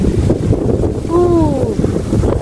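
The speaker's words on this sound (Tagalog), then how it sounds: "Malakas ang hangin, oh." Steady rumbling wind on a farm buffets the microphone throughout, with a brief tonal whine in the middle.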